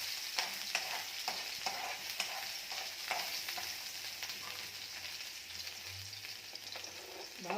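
Onions frying in plenty of oil for shrimp bagoong, a steady crackling sizzle with repeated stirring scrapes and clatters throughout, close and moderately loud, no talking.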